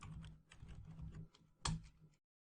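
Keys on a computer keyboard clatter in quick, uneven bursts at close range, a short run of typing with a few brief pauses and one louder keystroke near the end, no voices.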